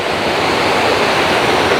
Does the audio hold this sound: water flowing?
yes